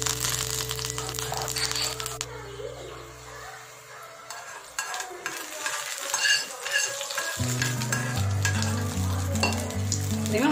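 Small shallots and curry leaves frying in a pan during a home breakfast: a loud, crackling sizzle with stirring and scraping, accompanied by steady background music that briefly drops out midway, with no speech heard.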